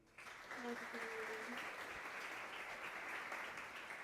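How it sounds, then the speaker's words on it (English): An audience at a ceremony breaks into applause, a steady wash of clapping held at moderate level after a brief quiet start, with a voice heard under it. "Round of applause, please."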